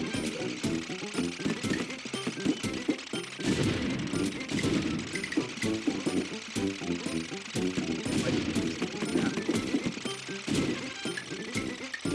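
Tank cannons firing in the video game Wii Tanks: dense, rapid bursts of sharp shots and clattering impacts that repeat steadily and loudly over busy game sounds for the whole stretch.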